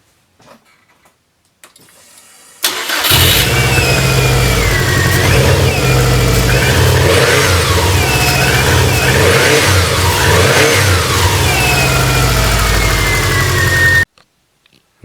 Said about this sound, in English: Now I'm going to go ahead and try to start the car.